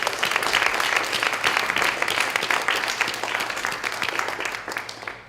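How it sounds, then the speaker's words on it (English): Crowd applause follows a startup panel discussion at a San Francisco gathering: many hands clap in a steady, crackling wash that tapers off toward the end. "Let's give you all a round of applause"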